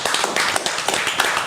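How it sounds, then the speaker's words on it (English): Studio audience on a talk podcast clapping in a dense, steady burst of applause, close and loud, with no one talking over it. "Clap it up for that."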